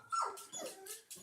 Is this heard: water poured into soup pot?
no